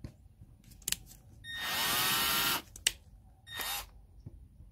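A power drill bores pilot holes into wood for a DIY dog bed: one sustained whining drill run of about a second, then a shorter burst, with sharp clicks and knocks in between.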